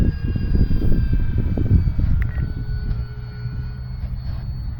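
Electric E-flite F4U Corsair 1.2 m RC model plane on a 4S battery, its motor whine and propeller roar sweeping past overhead on a cold day, loud at first and fading as it passes.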